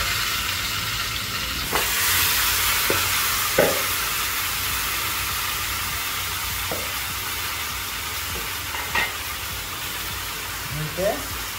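Marinated beef frying in mustard oil over low heat, a continuous dense hiss with a few soft clunks and stirring taps, steady and fairly loud throughout.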